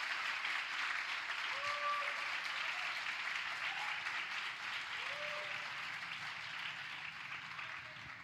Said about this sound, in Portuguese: Você pode dar um aplauso ao Senhor pela sua palavra?